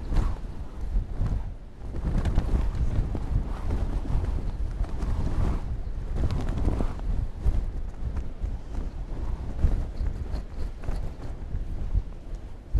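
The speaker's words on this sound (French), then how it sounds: "Le vent me pousse." Strong wind buffets the microphone on the Scottish coast, a continuous heavy rumbling roar with gusty surges and no break for the whole stretch.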